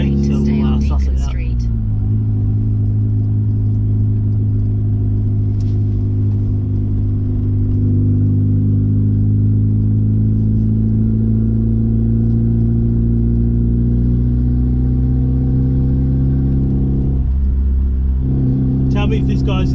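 A Mazda 323 Familia with a new turbo setup drives along, its engine holding a loud, steady droning hum from inside the cabin, with brief bursts of noise near the start and end.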